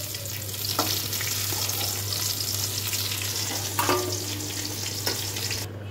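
Pieces of brinjal sizzle steadily in hot oil in a pan, a constant frying hiss with a few soft stirring scrapes over a low hum.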